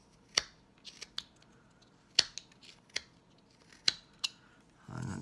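A knife carving a small piece of wood for a cowboy bolo tie: quiet, sharp clicking snips and scrapes in irregular strokes, close up, with a soft rustle at the end and no talking.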